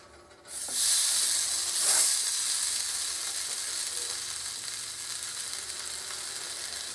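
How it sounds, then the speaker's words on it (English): Scrapple drops into a hot pan on medium heat with a sudden loud sizzle that settles into a steady, crackling hiss of frying. "So we're going to throw these in the frying pan."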